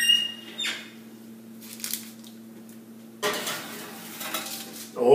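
A baking tray of smoked yellowtail jerky slid into an oven preheated to 200 degrees: a few close metallic clatters and scrapes of the rack and pan, with a louder clunk near the end.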